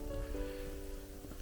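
Steady rain patters on a wooded hiking trail in the Berici hills near Mossano, a soft continuous hiss with a faint tonal hum running underneath.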